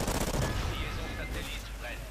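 Rapid Bizon submachine gun fire in Call of Duty: Ghosts, a dense loud burst of game gunshots rattling continuously, with some voice mixed in.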